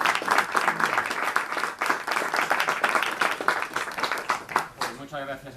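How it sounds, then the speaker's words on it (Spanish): Audience applause fills a bookshop presentation in Granada, dense rhythmic clapping that thins near the end, with some voices over it. "un fuerte aplauso"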